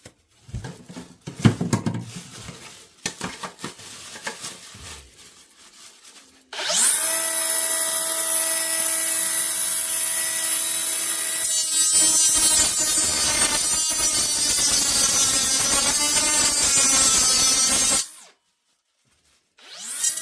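A Ryobi cutoff wheel cutting pipe during a bathroom renovation: after some quiet handling clatter, a loud, steady high-pitched whine grinds through the cut for about eleven seconds, then stops abruptly.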